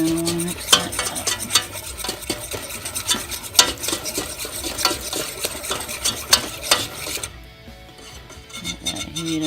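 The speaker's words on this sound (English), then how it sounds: "Half a cup of butter, half a cup of flour, and you're going to want to mix that up." A utensil scrapes and stirs melted butter and flour in a hot pan with a soft sizzle, in repeated close scraping strokes that quieten near the end.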